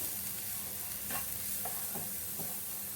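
Grated carrot and other vegetables being stirred together in a pan, a soft continuous sizzle beneath quiet spatula scrapes and a few light taps, no voices.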